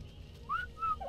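A character in the survival game ARK Survival Evolved whistles a command: three short, clear rising and falling whistle notes, close and alone over faint background hum.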